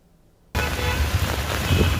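Heavy torrential rain pours down on a street in Jaipur. After a brief quiet start it suddenly bursts in as a loud, dense, steady roar of downpour, with no voices.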